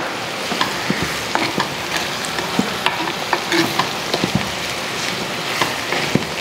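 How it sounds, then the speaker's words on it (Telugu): Onions fry with salt in a pan, making a steady close sizzle dotted with frequent sharp clicks and taps of a spoon stirring against the pan. "ఉల్లిపాయలు అమ్మ బాగా రంగు మారేదాకా వేపుకోవాలి"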